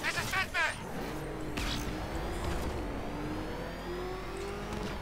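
The Batmobile in Batman: Arkham Knight drives with a steady engine whir and rising revs, a moderate rumble running beneath someone talking in German.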